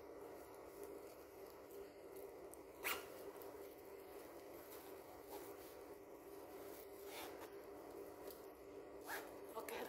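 Zipper on a package pulled open and shut, faint scraping runs with a couple of sharper zips up close, softly heard over quiet room noise.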